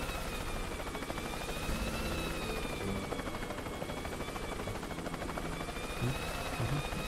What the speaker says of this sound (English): We love these helicopters.